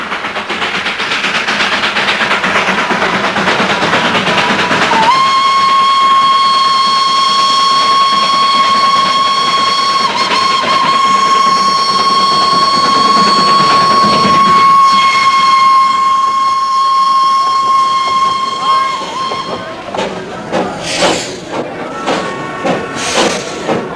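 A steam locomotive on an Indian hill railway at the hill town of Kurseong gives a long, loud whistle blast that holds steady for many seconds, then breaks off into hissing and rhythmic chuffing and clanking as the little train moves.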